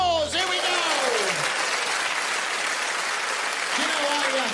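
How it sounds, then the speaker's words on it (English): A studio audience breaks into a sustained round of applause at a comedy show, dense clapping filling the whole stretch while a host's voice calls out over it at the start and again near the end. "Another great voice, round of applause, here we go."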